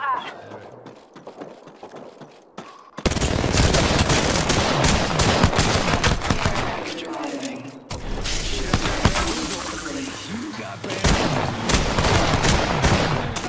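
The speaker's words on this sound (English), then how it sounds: "Being shot at." Bursts of gunfire in Apex Legends, rattling automatic shots loud and close after a quieter start, continuing with a short break, mixed with footsteps and mechanical clatter while people talk over it.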